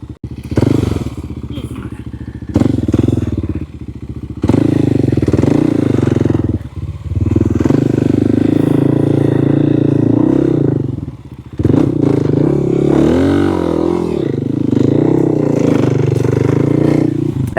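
A modified Kawasaki KLX 300 dirt bike rides on dirt trails, its engine droning loudly and rising and falling with the throttle. Clatter and thumps from the rough ground come through, with brief dips in between.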